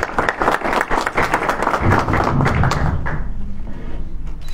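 A room of people at the presentation of a new coach for Maghreb Association Sportive de Fès claps loudly and close by, then the applause thins and fades out over the last second.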